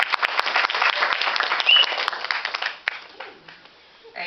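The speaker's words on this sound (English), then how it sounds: "shall we give her a hand of applause?" At a school of policy presidential debate event, an audience applauds the program's moderator with a burst of mixed clapping that thins out and fades toward the end, a few separate claps standing out near the close.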